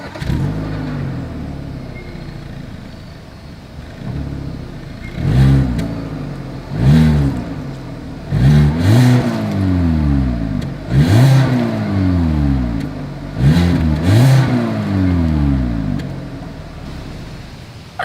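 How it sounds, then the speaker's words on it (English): A 2023 Hyundai Accent's exhaust rises and falls through a series of quick revs from idle, each blip climbing and dropping in pitch, heard close and loud at the tailpipe. "here is that exhaust clip"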